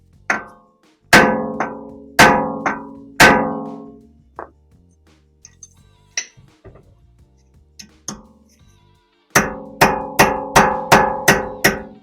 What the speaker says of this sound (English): I like to give it one good whack.